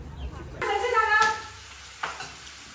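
Food is stir-fried in a pan during home cooking for a Lunar New Year festival meal: a spatula scrapes and tosses with a sizzling burst, then a brief metallic clink, close by.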